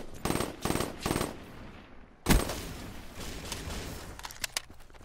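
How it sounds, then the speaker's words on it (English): Automatic gunfire in a first-person shooter video game: several rapid bursts at the start, then a loud blast followed by scattered shots and rattling, fairly close and without talk. "All those bullets I'm shooting, damn. I had to use like two magazines right there."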